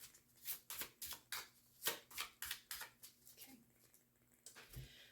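Tarot cards riffled in a run of quick, crisp bursts at close range, a steady flurry that trails off into a few softer taps and shuffles.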